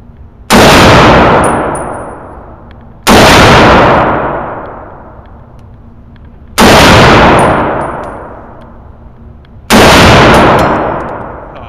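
Four loud, evenly spaced M1 Garand rifle shots fired at an outdoor range, each a sharp close blast with a long ringing decay, about three seconds apart.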